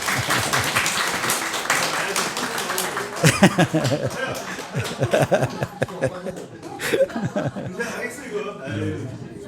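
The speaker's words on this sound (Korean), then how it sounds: "우리 박수 한번 해주시면 바랍니다" A church congregation applauds during a Sunday service, with clapping mixed with chuckles and laughter under a continuing voice.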